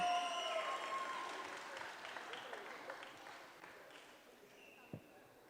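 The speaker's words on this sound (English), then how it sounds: "Can we hear a big round of applause for Arpita and Sunil?" An audience at a Puneeth Rajkumar tribute music event in Melbourne applauds a pair of singers, the clapping loudest at the start and gradually fading, fairly quiet and diffuse.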